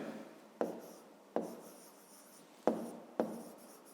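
A pen scratches across paper in four short strokes, each starting with a sharp tap and fading, soft and close in a quiet room.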